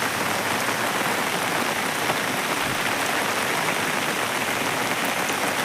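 Heavy rain falling on a paddy field, a dense continuous hiss of drops, steady and enveloping with no talk over it.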